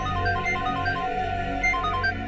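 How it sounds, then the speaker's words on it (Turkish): A telephone ringtone repeats its short electronic melody over and over, steady and fairly quiet, in an indoor drama scene with no one speaking. "Neden telefonu açmıyor ki?"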